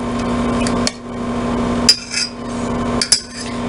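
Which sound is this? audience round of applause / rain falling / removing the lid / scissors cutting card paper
removing the lid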